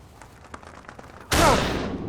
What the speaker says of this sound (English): That was a hell of a shot, son.